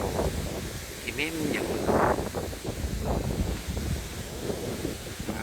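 Strong wind by the Mekong at Kaeng Kabao port in Laos buffets the microphone, producing a continuous low, rushing roar beneath someone speaking throughout.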